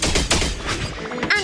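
Gunfire from the video game Honkai: Star Rail comes as a quick burst of sharp, loud reports in close succession, ringing with a short metallic echo.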